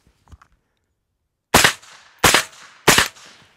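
Three loud, sharp rifle shots fired at a short-range target, spaced roughly two thirds of a second apart, each with a brief decaying ring, following a couple of faint clicks and near silence.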